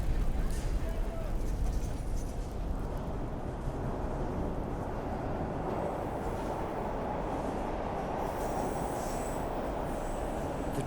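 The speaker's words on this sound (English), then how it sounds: "I'm about to board a train that runs underground." Underground train in a radio drama: a continuous, dense rumble of wheels on rails with steady mechanical rattle throughout, loud and unbroken.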